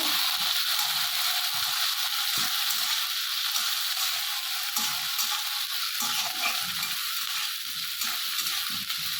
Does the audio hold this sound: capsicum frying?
yes